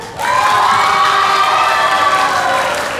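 An audience of parents and families at a children's tea party show breaks into loud cheering and whooping, with high children's shouts mixed into the crowd noise, swelling quickly and holding strong to the end.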